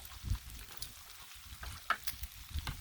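Pancakes and bacon cooking on a griddle greased with bacon fat, a quiet, steady sizzle with small pops and crackles, heard alone without talk.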